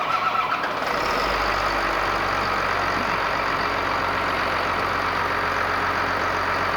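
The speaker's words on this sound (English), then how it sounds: "We're going to start with starting the engine." A chip spreader's engine cranks and catches about a second in, then settles into a steady, loud, mid-pitched idle that continues without a break.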